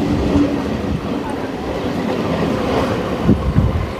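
A train rumbles steadily at the Bidhannagar station platform, with a continuous low roar of rail noise and a couple of brief squeals or thumps near the end, and a faint murmur of voices in the background.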